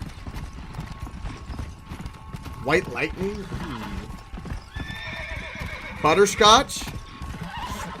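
Horses in the video game Red Dead Redemption neigh and whinny in sharp, wavering cries over a bed of clopping hooves during horse breaking, while a person talks quietly nearby.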